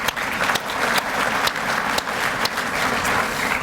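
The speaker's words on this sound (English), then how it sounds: "So one more round of applause." A luncheon crowd at a chamber of commerce community event claps loudly and continuously, a dense close patter with a few sharper hand strikes and no speech.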